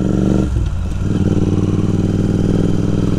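A Royal Enfield Continental GT 650 twin-cylinder engine while riding, a loud, steady throbbing drone with a brief dip in revs early, then a constant pulsing pull.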